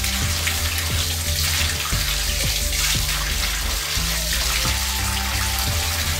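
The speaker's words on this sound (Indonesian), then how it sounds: "Selanjutnya dibilas dengan air yang bersih." Hands are rinsed under clean running tap water, a steady close splashing stream with light irregular drips and taps throughout, and no talking.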